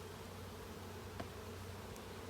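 Two to three hundred bees held in a basket during a hive inspection, giving a faint, steady low hum with a brief brighter buzz near the middle.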